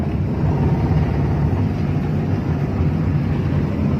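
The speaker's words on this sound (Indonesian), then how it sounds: "Kondisi mesin bisa didengar sendiri seperti gamelan wayang golek." Rough, steady engine drone from a Timor car with a worn, rattly-sounding motor, a continuous low rumble without clear revving, recorded close.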